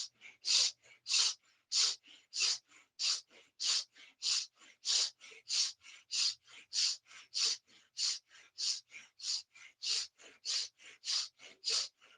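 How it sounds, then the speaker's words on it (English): Slow, steady deep chest breathing during a guided breathing exercise, with about twenty rhythmic inhale and exhale cycles, close and clear with no talking. "Expansion of the chest, inhale. Contraction of the chest, exhale."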